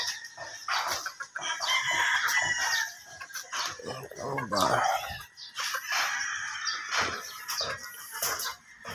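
A gamecock rooster of the sweater fighting bloodline crows and clucks nearby, repeated calls filling the clip, with some flapping and background voices of people talking.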